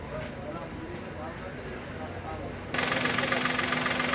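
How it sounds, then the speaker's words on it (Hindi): Maruti Suzuki WagonR engine idling on CNG after a faulty-injector cylinder misfire repair, a low steady idle rumble that turns brighter and louder partway through, with someone talking over it. "और ये अपना इंजन भी स्मूथ हो गया"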